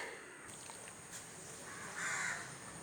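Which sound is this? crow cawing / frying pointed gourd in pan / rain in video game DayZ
crow cawing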